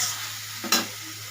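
Egg and potato curry sautéing in a pan gives a steady hiss with one brief scrape of stirring midway, close and fairly loud.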